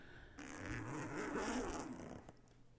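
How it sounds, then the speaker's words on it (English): A single zipper sound effect plays as one long, rasping pull lasting around two seconds, loud and close, with no voices over it. "That was a sound effect. Of a zipper."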